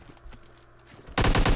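A PUBG Mobile firefight opens with scattered distant shots and soft thuds, then a loud close burst of rapid automatic fire breaks out near the end.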